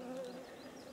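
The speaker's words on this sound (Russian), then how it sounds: "северная пчела." A northern bee buzzes close by in a northern forest on a warm day, giving a steady, fairly loud drone for about a second with no one talking.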